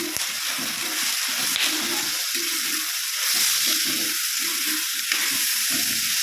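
Tomato with wilted onion and green chilli sizzles steadily in a pan for a curry, with a few soft stirring scrapes breaking through the continuous close frying hiss.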